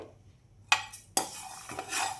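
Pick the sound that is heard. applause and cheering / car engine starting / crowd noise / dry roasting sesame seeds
dry roasting sesame seeds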